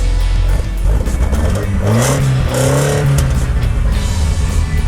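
A 1978 Lotus Sprint Eclat, a British classic car started cold, is revved near the listener: a low engine rumble swells and falls over a few seconds with rising and dropping pitch, loud and continuous, with no talking.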